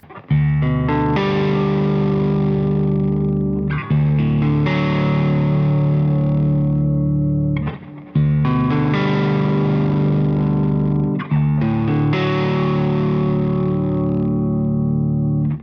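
Distorted electric guitar holding sustained chords with a wavering vibrato made by wiggling the neck, played in four long phrases separated by brief breaks, loud and effect-heavy.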